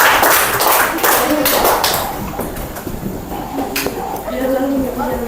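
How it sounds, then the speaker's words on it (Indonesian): Students in a classroom clap for their classmates, a dense burst of hand claps fading after a couple of seconds, with a teacher's voice and chatter carrying on beneath and after. "Silakan tepuk tangan untuk teman kalian."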